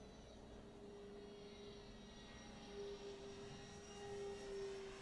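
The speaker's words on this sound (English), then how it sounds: "Beautiful, beautiful flying plane." A Twin Timber 1.6m twin-engine RC model airplane flies overhead, giving a steady, faint electric motor drone that swells slightly as it passes, with no talking.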